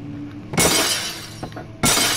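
Glass shatters in the horror game Amnesia: The Dark Descent, a sharp loud crash with a scattering tail, then a second smash close behind about a second later.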